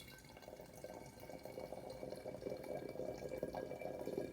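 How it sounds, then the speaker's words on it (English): Purple liquid watercolor water pours steadily into a plastic bag for a bubble lamp, a continuous close splashing trickle that grows slightly fuller over a few seconds, with no talking. "We're going to pour the purple water in here."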